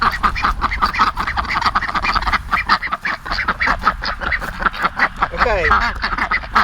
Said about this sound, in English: When they see me, they'll start running and start quacking.